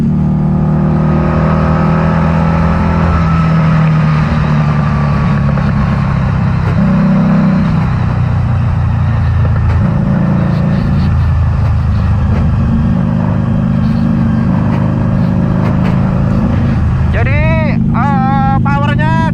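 A 2012 Harley-Davidson V-Rod Muscle 10th Anniversary motorcycle engine roars loudly and steadily as it accelerates and winds up to high revs, with wind rush throughout and a person talking over it.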